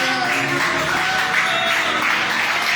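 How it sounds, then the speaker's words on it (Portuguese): Steady, dense clapping from a church congregation fills the whole stretch, loud and continuous with no voices standing out. "Bate palmas"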